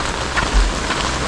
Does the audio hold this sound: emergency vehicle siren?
no